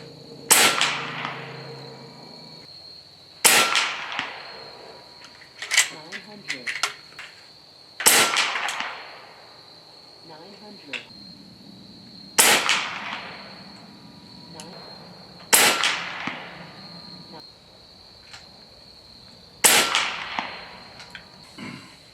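An AEA Challenger PRO .35 caliber long-barrel air rifle firing 90 grain Zan slugs at a 50 yard target: six sharp, loud cracks spaced a few seconds apart, each with a short ringing tail and a faint distant thwack, with quiet handling between.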